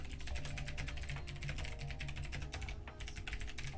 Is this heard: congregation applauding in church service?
no